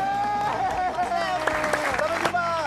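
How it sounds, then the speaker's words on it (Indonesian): Applause from a studio audience at the close of a televised stand-up comedy battle show, a sustained clapping wash blended with voices and tonal music-like sounds. "Tepuk tangan dong."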